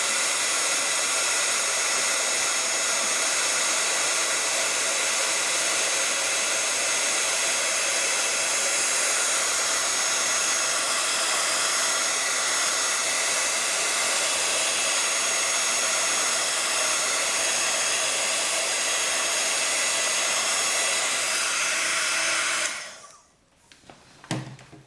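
A heat embossing tool blows steadily over stencilled embossing paste on a card, a loud continuous hair-dryer-like whoosh with a fan whine that runs unbroken for over twenty seconds before cutting off abruptly.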